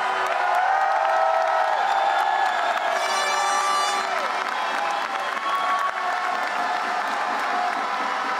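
A large arena crowd at the Butchery World Cup in Paris keeps up steady applause mixed with cheers, whoops and some children's shouts, a dense, continuous wash of noise with a brief whistle-like tone partway through.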